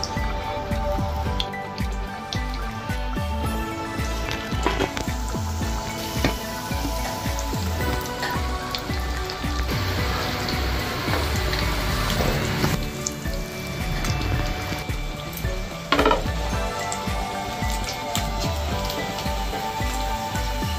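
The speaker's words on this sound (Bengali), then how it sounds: "দেখো অল্প অল্প করে ভেজে নেবো" Chicken rolls frying two at a time in medium-hot oil, a dense steady crackle and sizzle like rain on a surface, running continuously throughout with no talking.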